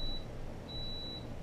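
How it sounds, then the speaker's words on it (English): A Behmor Brazen Plus coffee brewer gives a high electronic beep once, then a second, longer beep follows after a short gap over quiet background hum. "that beeping means that it was done"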